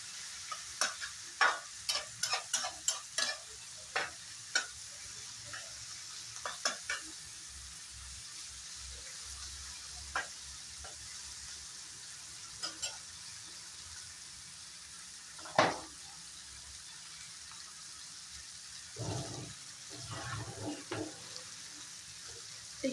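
Onion and green chilli fry in a pan for a banana flower dish, with a low, steady sizzle and scattered sharp spatula scrapes and taps, clustered early and again near the end.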